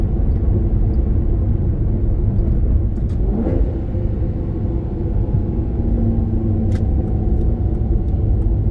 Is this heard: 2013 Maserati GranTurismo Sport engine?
yes